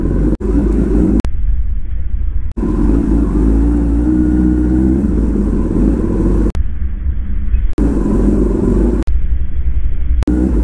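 A Kawasaki ZX-10R motorcycle engine running with a loud, steady low rumble, held at a constant drone with brief cutouts and small shifts in pitch, close to the listener.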